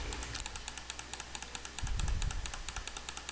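Repeated mouse clicks on arrow buttons in Revit 2022 software, a steady run of sharp, evenly spaced clicks at close range with a brief low rumble partway through; no speech.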